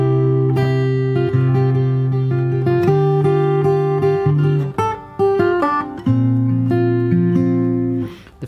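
Fingerstyle acoustic guitar plays the chorus of a song in a relaxed way without slaps, with sustained bass notes under picked melody lines, close and clear, with no talking.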